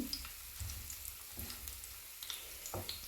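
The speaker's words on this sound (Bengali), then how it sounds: "চিংড়িটা ভালোভাবে ভাজছি" Shrimp fry in a pan with a soft, steady sizzle and a few faint scrapes and taps of a utensil, quiet and close with no talk.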